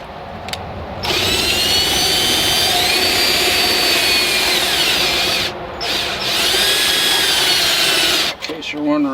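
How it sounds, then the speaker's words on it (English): A step drill bit bores a hole into a Dodge Charger's plastic center console, giving a loud, steady high-pitched whine that runs for several seconds, pauses briefly, then resumes close up. "I'm going to take the step bit to do each step."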